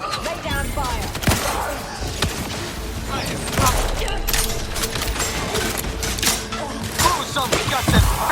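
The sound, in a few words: gunfire in The Outer Worlds 2 video game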